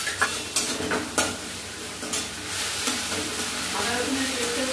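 Garlic and ginger paste sizzles in hot oil in a pan with softened tomato and salt, stirred with a utensil giving a few scraping knocks over steady close frying hiss.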